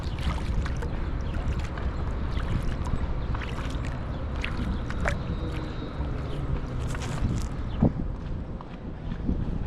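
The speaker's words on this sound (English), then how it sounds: "nice looking boat coming up on the side of me here" A Cuyahoga County Sheriff's boat motors past on the Cuyahoga River, a steady low engine rumble mixed with water and wind noise, with scattered splashes and knocks.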